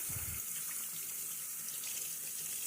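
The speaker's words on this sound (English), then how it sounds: "Gotta wash my hand off." Tap water runs steadily into a kitchen sink while hands are washed, a close, even splashing hiss with a brief low thump at the start and no talk.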